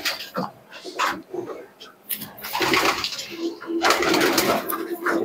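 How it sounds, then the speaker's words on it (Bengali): Breeding pigeons coo in low bursts amid scattered knocks and rustles in a loft, with a voice in the background. "যে ব্রিডিং কবুতর দেখুন"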